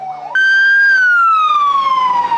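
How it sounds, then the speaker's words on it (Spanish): Fire truck sirens wail loud and close in the streets of Managua's District 4, a sharp rising tone that then slowly falls in pitch. "las sirenas y bocinas de los bomberos anunciaban un triunfo más del pueblo nicaragüense"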